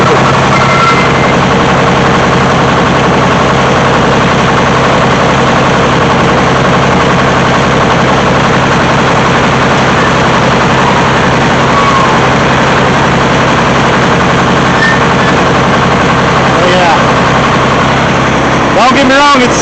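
A hydraulics machine's engine running at wide open throttle, a loud, steady, droning roar with constant low rumble and vibration throughout, while someone talks over it.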